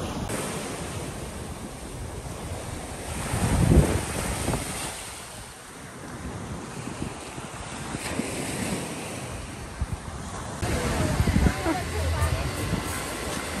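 Ocean surf breaks and washes on a Thailand beach while wind buffets the microphone, with loud swells rising and falling around a few louder wave crashes, and a person talking over it.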